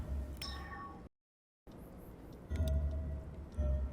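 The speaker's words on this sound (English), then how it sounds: "Alright, there's the cat." A cat meows in the video game D4, a few clear, drawn-out mewing calls heard close and fairly quiet over a low background rumble, broken by a short complete silence.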